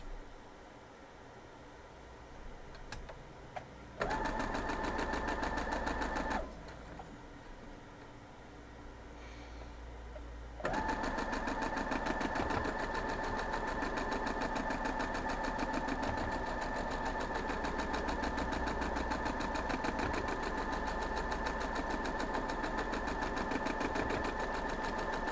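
Home sewing machine stitching quilt block strips in straight seams, running in two steady buzzing bursts, a short one then a long continuous run, close and loud with no talking.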